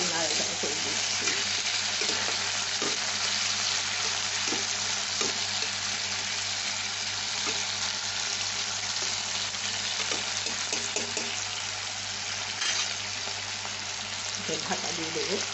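Potatoes sizzle and fry steadily in a hot pan while a utensil stirs them in short scraping bursts; the loud, even hiss continues throughout the whole clip.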